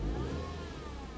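A 2005 Toyota MR2 Spyder in reverse revs with its gas pressed while the car will not move, giving a short, steady mid-pitched engine drone up close that eases slightly as it fades.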